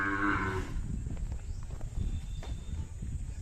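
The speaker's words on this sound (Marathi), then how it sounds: "गायी पाहू शकता दुधाच्या आहेत." Khillar cattle at a cattle show in Chimangaon, Koregaon, Satara, where a cow gives a loud, drawn-out moo at the start, then the low, steady murmur of livestock and crowd noise continues.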